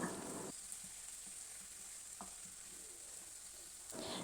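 Chopped tomatoes sauté with crushed spices in a hot pan, a steady close sizzle broken by a few spatula scrapes and stirs, no one speaking.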